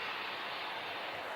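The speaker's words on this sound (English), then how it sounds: "That's a geothermal plant just down there" A geothermal power plant in the Azores gives off a steady, broad roar from somewhere below, droning evenly and fairly faintly throughout with no voices over it.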